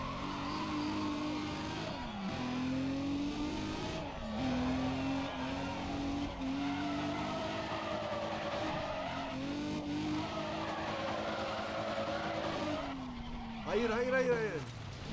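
Car drifting in the racing game Need for Speed ProStreet on PC, with long wavering tire squeals and engine revving rising and falling over the whole stretch, with no speech over it.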